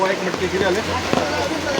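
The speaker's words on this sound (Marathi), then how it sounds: "खाली पाऊसच पाऊस चालू आहे" Rain patters steadily on a surface nearby, a constant wash of drops with a voice murmuring faintly underneath.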